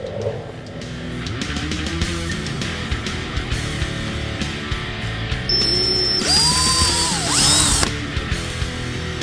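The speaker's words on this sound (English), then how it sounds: "And drill it out." A power drill whirs continuously, drilling out a panel for a 2015-2017 Ford F-150 fender flare kit, with the motor pitch rising and falling as it bites into material, loudest and whining toward the end.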